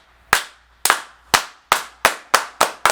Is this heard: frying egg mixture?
no